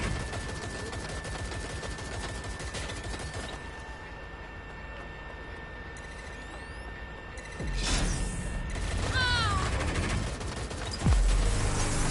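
Gunfire fills a Watch Dogs Legion city firefight, a dense, steady clatter of shots with heavier booming blasts surging in near the end.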